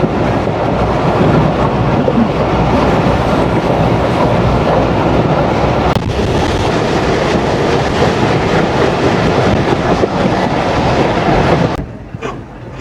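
A Mongla-bound commuter train runs on its rails, a loud continuous rumble with rhythmic clickety-clack of the wheels that drops away abruptly near the end.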